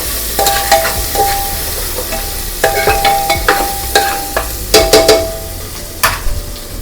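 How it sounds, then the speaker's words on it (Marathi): Grated ginger, garlic and cumin are sautéed in a pan for pav bhaji, with a loud steady sizzle and repeated clinking, scraping spoon strokes in an uneven rhythm, no talking. "जिरं घातल्यानंतर आलं लसूण घा किसलेलं आलं लसूण घालायचं आहे परतून घेऊया"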